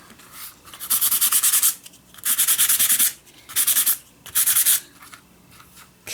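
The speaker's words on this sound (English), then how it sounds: "I'm going to sand this just a bit" Something is being hand sanded in four firm back-and-forth bursts, a gritty, close scratching with short pauses between the strokes and no talking.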